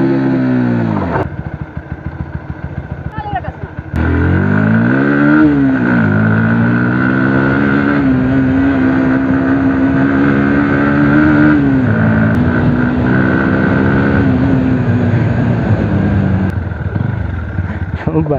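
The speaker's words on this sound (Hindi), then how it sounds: "मैं बाइक स्टार्ट करूँगा और बर्नआउट करूँगा, मैं बर्नआउट लगूँगा मारने" A Bajaj Pulsar NS160 motorcycle revs hard during a burnout, its engine climbing and falling in loud, sustained surges close to the microphone after a brief idle at the start.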